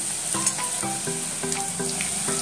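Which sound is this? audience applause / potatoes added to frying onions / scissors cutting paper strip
potatoes added to frying onions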